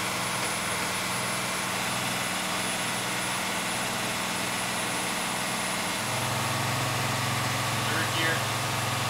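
A 1993 International Blue Bird school bus with a DTA360 diesel engine climbing a hill, a steady droning engine hum from inside that steps up in pitch partway through as it shifts, with voices heard now and then.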